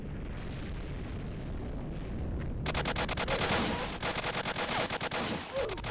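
Rapid bursts of M14 rifle fire in the video game Apocalypse Rising, loud and dense, starting as a steady rumble and then breaking into fast repeated cracks toward the end, with no talking.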